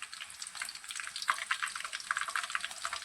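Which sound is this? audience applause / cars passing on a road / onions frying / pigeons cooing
onions frying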